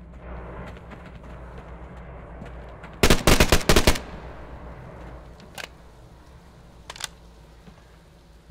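Gunfire in the survival shooter Fear the Wolves: a sharp close burst of automatic shots lasting about a second, followed by two isolated single shots, over quiet outdoor ambience.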